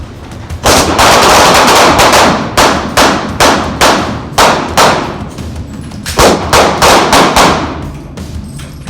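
Rifles fire on an outdoor shooting range in North Idaho during tactical training, a loud close string of sharp cracks from several shooters, some overlapping and some spaced, with no talk.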